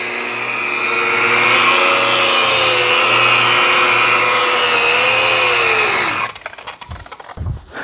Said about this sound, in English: Now I'm letting the polisher use its own weight.